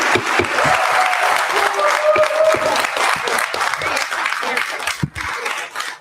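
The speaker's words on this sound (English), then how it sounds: "But please, no clapping during the meeting." Audience clapping at a city budget workshop meeting in Cape Coral, a steady patter of hands lasting several seconds and fading near the end, with some background voices mixed in.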